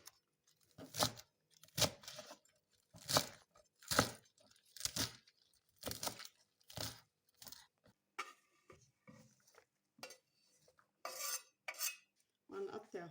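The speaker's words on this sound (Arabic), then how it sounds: "هلا عم نفرم الخس" A knife chops lettuce on a cutting board for a Lebanese fattoush salad. Close, crisp strokes repeat at a loose, uneven rhythm, about once a second with scattered lighter cuts, and no talking.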